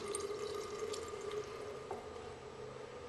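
Water trickles steadily into a 2012 American Standard H2Option dual-flush toilet tank with a sticking fill valve that will not shut off, a soft continuous hiss with a faint tonal whine.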